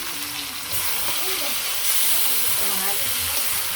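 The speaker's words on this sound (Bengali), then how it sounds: "আলু ভাজা হয়ে গেছে, এর মধ্যে মাংসগুলো দিয়ে দিলাম।" Turmeric, chili, salt, ginger and garlic-marinated meat frying with already fried potatoes in a pan over a village clay stove, giving a loud, continuous hiss and sizzle with some faint tonal squeaks.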